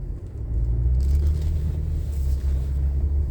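Steady low engine and road rumble heard from inside a moving car, a constant droning hum with faint wind and cabin noise, no talk.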